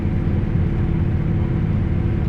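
Steady low road rumble and engine hum inside a moving car, a continuous dense drone with no talking.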